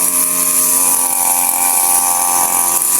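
A grass cutter whines loud and close while trimming thick grass around eggplants near a hut, a sustained high-pitched motor drone that wavers slightly throughout with no talk over it.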